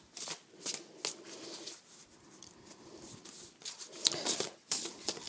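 A deck of oracle cards is shuffled by hand, giving soft rapid riffling and patting bursts in irregular rhythm, close and fairly quiet, with no talking.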